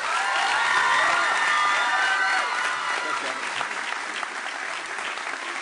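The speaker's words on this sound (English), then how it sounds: "Let's give a warm welcome and a round of applause for the 38th governor of California," A loud crowd bursts into applause and cheering with scattered whoops to welcome Governor Arnold Schwarzenegger at a back-to-school education event, the clapping swelling early and then holding steady.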